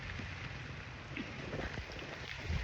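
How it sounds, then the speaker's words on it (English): Steady rain falls over a Southern California garden with fruit trees, a dense hiss of drops patters on leaves and surfaces nearby. The sound is soft and continuous, with no voices. "Just a garden tour right now in the rain."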